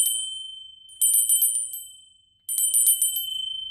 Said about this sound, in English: Ring the bell 3 times for magic to clear the air